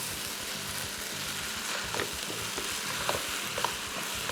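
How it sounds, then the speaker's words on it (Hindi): Chicken and masala sizzle steadily in a pan over high flame, with a continuous frying hiss and occasional scraping clinks as the mixture is stirred, close up and alone without talk. "हाई फ्लेम पे ही आपने इसको पकाना है अच्छे तरीके से"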